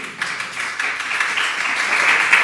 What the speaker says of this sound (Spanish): Fuerte aplauso para nuestra intérprete